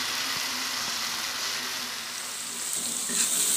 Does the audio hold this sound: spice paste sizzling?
yes